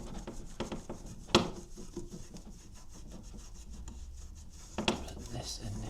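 Wooden body of a Wisner 8x10 large format camera being rubbed and cleaned of grime, soft repeated scrubbing strokes with two sharper knocks, close and quiet.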